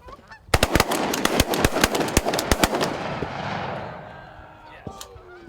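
Rapid volley of close, loud shotgun blasts fired at flying geese on a goose hunt, with goose honking mixed in and a few hunters' voices calling out as the shooting tapers off.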